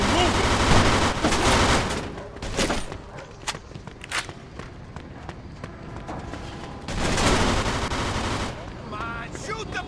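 Gunfire in the Mafia 2 video game during the Sea Gift mission: scattered sharp shots and dense bursts of automatic fire, loud clusters separated by quieter stretches with footsteps, occasional voices underneath.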